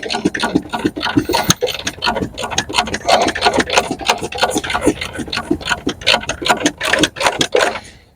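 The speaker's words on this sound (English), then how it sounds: "Now that's all tightened." A ratchet wrench tightens a bolt on a Renault Scenic III ABS pump, giving rapid, close, loud clicking in quick bursts of strokes that repeat almost without pause.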